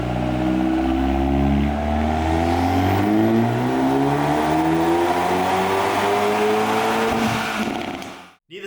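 A Hyundai Veloster N running a JB4 tune on map 4 revs hard on a dynamometer, the engine pitch climbing steadily through a long pull, loud and close, before cutting off abruptly at the end.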